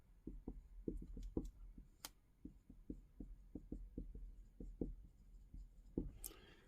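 A pen writes on paper up close in short, quiet strokes and taps at an uneven rhythm. The scratches come one after another, and a faint rustle follows at the end.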